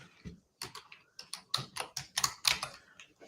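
Quick bursts of keystrokes on a computer keyboard, close and crisp, coming in irregular clusters of clicks with short pauses between them, no voices over the tapping.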